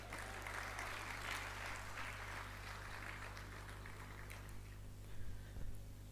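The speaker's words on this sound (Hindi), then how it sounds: "आप लोगों ने जितनी तालियां बजाईं" Faint applause from a distant audience at a Jashn-e-Javed Akhtar event in Dubai, a steady patter of clapping over a low hum that tapers off near the end.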